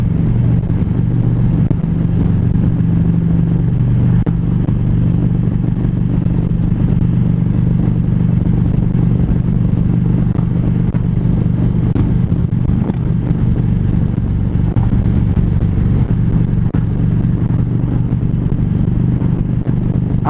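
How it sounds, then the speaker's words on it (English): Many motorcycles riding along a long bridge on the road to Key West, a continuous heavy engine drone with steady rumble and wind noise, loud and close throughout, no talk. "So many motorcycles."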